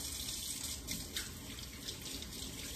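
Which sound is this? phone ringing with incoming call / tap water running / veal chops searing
tap water running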